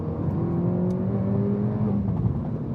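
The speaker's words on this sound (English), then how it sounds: "I've pressed the sports button, which livens up the exhaust to say the least" A sports car engine in sport mode drones under acceleration, its exhaust note rising in pitch with a throaty rumble, loud and steady from inside the vehicle.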